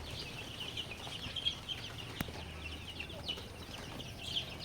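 Six-day-old Tiger breed chicken chicks peep continuously in a cluster, giving faint, high, overlapping chirps at close range with a low background hum.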